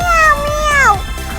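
A voice imitates a cat, giving two drawn-out, wavering meows close up, the second one sliding downward at its end.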